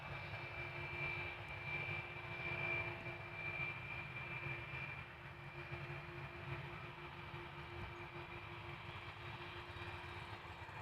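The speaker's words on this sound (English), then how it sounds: "it looks like an A330 coming our way, followed by an Embraer" Steady, distant jet engine roar from airliners at Amsterdam Schiphol Airport, an Airbus A330 followed by an Embraer 175, holding at a constant moderate level with no talk.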